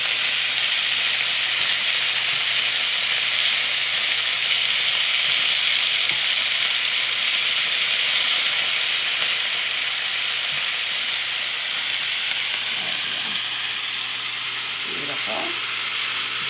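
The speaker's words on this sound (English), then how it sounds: "We're just going to flip them over and do a quick sear on them." Steak pieces searing in a hot pan for a stir fry make a loud, steady, hissing sizzle throughout, with a short spoken remark near the end.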